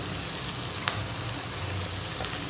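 Dried anchovies hit a pan of softened, frying onions and sizzle steadily, a quiet, even crackle with a few brief pops, close up and alone.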